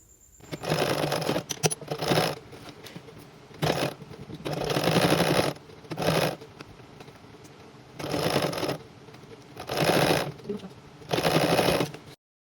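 A sewing machine stitches a sleeve into the armhole of a pencil dress, running in several bursts of a few seconds each. The bursts are separated by short pauses and faint handling noises, close up, with no talking.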